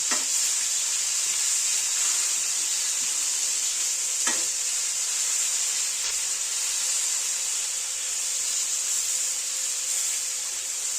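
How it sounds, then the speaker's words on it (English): Atlantic cod fillet frying in a pan after a last flip gives off a steady, loud, bright sizzle that runs without a break, with a faint tap or two of a utensil and no voices. "I will do a last flip."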